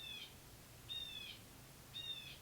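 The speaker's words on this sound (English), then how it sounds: "These birds are very chatty." Birds call in three evenly spaced bursts, each a short shrill chattering note, faint and somewhat distant over quiet background hiss in a New York setting.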